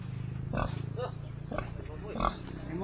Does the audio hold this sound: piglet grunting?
yes